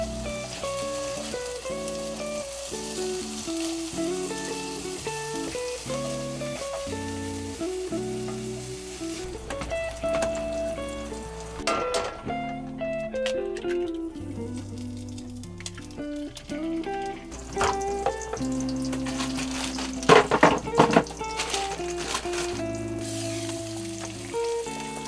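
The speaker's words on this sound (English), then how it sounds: "I'm getting ready to make some breakfast. Just gonna make some sausage patties." Sausage patties fry and sizzle in a pan at a campground near the Grand Canyon, a continuous crackling hiss under a background of music, with louder spits and pops in the middle section.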